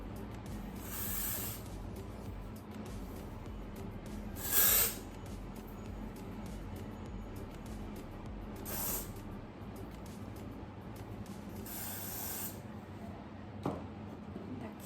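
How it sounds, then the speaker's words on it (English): Several short hissing bursts of aerosol dry shampoo sprayed onto long hair, spaced a few seconds apart, close and fairly soft against a quiet background. "I'm just gonna use some dry shampoo"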